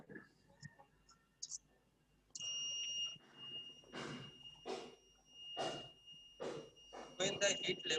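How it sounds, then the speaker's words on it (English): A heat sensor alarm buzzer on a student project board emits a steady, high electronic tone that sounds continuously through the second half, under a person speaking nearby. "then the buzzer and red LED will be turned on"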